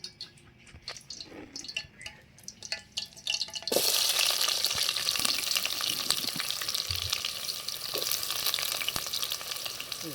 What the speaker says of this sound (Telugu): వేడైనాక ఉల్లిగడ్డ వేస్తాను